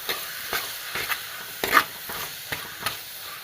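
Tomatoes, curry leaves and green chillies sauté in a pan with a soft sizzle, broken by regular scraping stirs of a spoon against the pan.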